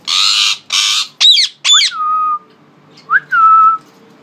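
A yellow Indian ringneck parrot gives loud, close calls: two harsh broad squawks, then sharp rising whistles that level into sustained clear tones, with a short pause before a final whistle.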